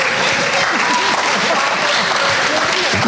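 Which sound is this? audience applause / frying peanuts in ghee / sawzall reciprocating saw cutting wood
audience applause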